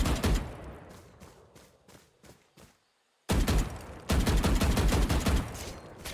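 Rapid bursts of automatic gunfire from the video game Valorant rattle loudly, thin into spaced single shots, drop to a second of silence, then resume in dense, sustained volleys.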